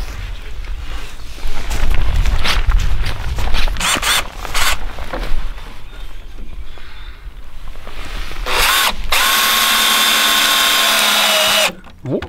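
A power drill drives screws into splitting wood on a backyard movable chicken coop. Scattered knocks and handling clatter come first, then a loud, steady motor whine holds for a few seconds near the end.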